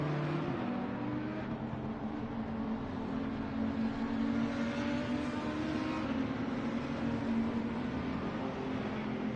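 A Porsche race car on a cool-down lap at Laguna Seca in a racing game, a steady, moderately loud engine drone with shifting pitch throughout, heard alone without talk.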